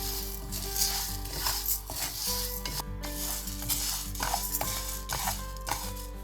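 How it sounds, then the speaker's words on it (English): Urad dal dry roasts in a pan while being stirred, giving a continuous gritty rustling and scraping of lentils against metal over a steady low hum, close up, with no talking. "take a pan and take 1 cup of urad dal or black gram and dry roast it until it's golden brown in color"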